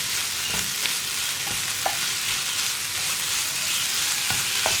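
Ivy gourd and brinjal mezhukkupuratti being stirred and fried in a pan, with a steady close sizzle and occasional spoon scrapes and clicks against the pan.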